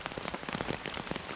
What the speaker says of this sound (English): you can still hear the rain patting on the tarp